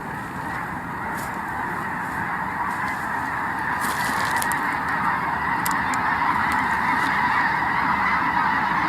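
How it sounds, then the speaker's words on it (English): A flock of geese taking off beside a cold-water carp fishing spot, honking loudly and continuously in an overlapping chorus that swells slightly as the birds rise, with no talking over it. "I'm closer to the geese flock. They just took off."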